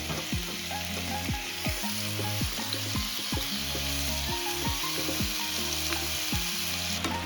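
Shrimp frying in olive oil in a hot skillet, giving a loud, dense, continuous sizzle heard up close throughout, with no one talking over it.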